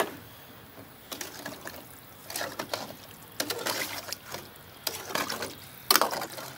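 Water poured into a pot of tortilla soup in several separate splashing, trickling bursts, close and quiet, with short pauses between pours.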